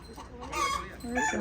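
Chickens clucking close by on a small farm kept alongside cows and goats, a couple of short bursts of calls in a quiet yard.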